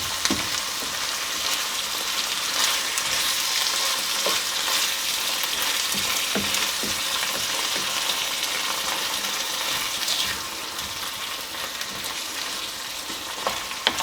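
Lasagne meat sauce frying in a pan gives a steady, loud sizzle as it is stirred, with scraping utensil sounds throughout and no talking.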